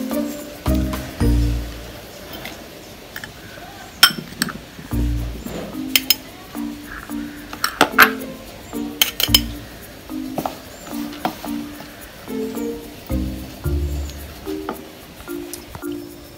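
Wheat flour puttu batter being packed into a puttu maker, with repeated light metallic clinks and taps of utensils, scraping and soft thuds recurring in an uneven rhythm close by, with no talking.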